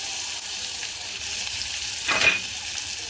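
Chopped onion frying in hot oil for spicy masoor dal, a steady close hiss with a brief louder sizzling flare near the end, no voices.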